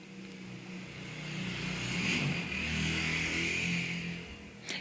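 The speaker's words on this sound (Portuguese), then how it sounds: "E eu estou cansada de motos." Motorcycles pass outside in the street, a muffled engine drone swelling to a broad peak and then easing off, moderately faint and with no voices.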